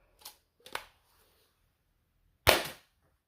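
An MZ01 MangZhong lever-action Nerf-style blaster fires Dart Zone Max Nitro foam darts. Two quick, faint snapping pops come first, followed by a louder, sharper crack about two seconds later, all close up with no speech.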